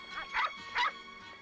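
A dog makes two short yipping barks with a whimpering edge, fairly close and moderately loud, with faint low background noise between them.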